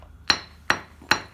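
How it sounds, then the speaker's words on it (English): A hammer strikes a twisted paper clip being flattened into a ring: three sharp metallic taps at an even, unhurried pace, close and clear against a quiet background. "If it's not long enough, you can always just hammer it more."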